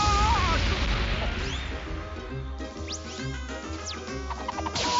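An explosion in a French-dubbed Sonic cartoon, a loud crashing burst with rumbling debris that quickly thins into whistling and clattering cartoon effects.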